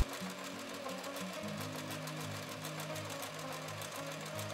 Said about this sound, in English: then do a machine seam on the entire hem